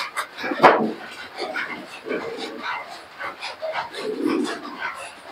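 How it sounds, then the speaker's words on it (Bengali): A pet pigeon back home after eight months coos softly in low, repeated bursts, close to the microphone amid other faint household sounds. "তোমাদের কাছে একটু শেয়ার করলাম যে কবুতরটি বাড়ি চলে এসছে"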